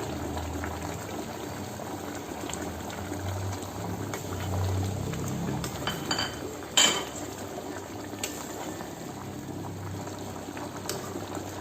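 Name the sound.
green chicken simmering covered on medium flame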